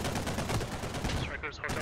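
Rapid automatic gunfire in the military shooter game Squad, a dense, loud continuous burst of shots that ends with a few sharper separate cracks as the firing breaks up.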